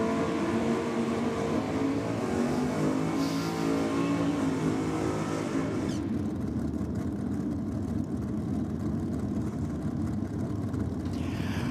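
A nitrous-assisted Holden HX drag car running a 400-cubic-inch Chev engine roars at a drag strip, a loud sustained engine drone that cuts to a thinner, more distant rumble partway through.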